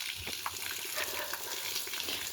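Water running steadily from a village tap, a soft continuous splashing and gurgling, faint and close, with no voices over it.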